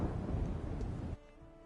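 Rolling thunder and a rain-like storm rumble from Horizon Forbidden West, loud and broadband for about a second, then dropping off abruptly into a quieter, thinner background with faint tones.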